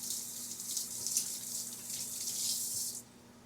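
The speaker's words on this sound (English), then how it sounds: "I'm going to wash my hand over here again" Hands being washed under a running water tap at a kitchen sink while preparing baked chicken, a steady close hiss of flowing water that cuts off near the end, with no talking.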